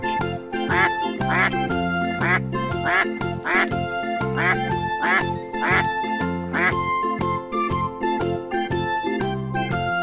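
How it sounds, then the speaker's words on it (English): Cartoon duck quacks in a children's animal-sounds animation, repeated rhythmic quacks over a bright musical backing, loud and steady throughout. "Duck."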